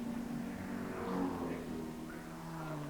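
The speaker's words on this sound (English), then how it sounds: "Great racing from these two BMWs." BMW touring race cars racing around a circuit, their engines a continuous, fairly distant drone with pitch shifts as they accelerate, without a voice over it.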